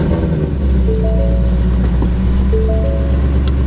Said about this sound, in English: let's go ahead and turn on our engine and let's see if we notice a difference here